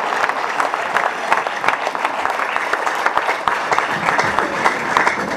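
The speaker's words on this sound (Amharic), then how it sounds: "በታላቅ ጭብጨባ ለሱ ሳይሆን ለጸጋ ክብር ለኢየሱስ ይሁን" A large church congregation at an Ethiopian service applauds loudly, with dense, continuous clapping that fills the room and holds steady throughout.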